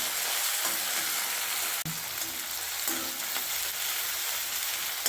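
Tomato and bitter gourd sautéing in a hot pan for a bitter gourd fry, with a steady close sizzle, a few faint stirring scrapes and one sharp knock on the pan; no voices.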